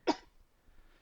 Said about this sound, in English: little COVID cough in there